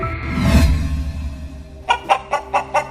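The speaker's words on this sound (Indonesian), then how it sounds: "Hei ayam, pergi kalian pergi." Several chickens cluck and squawk nearby, a loud burst followed by a rapid series of sharp clucks, with no speech.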